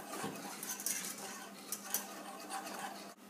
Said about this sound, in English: we're going to get our whisk and kind of whisk that together until it comes to a boil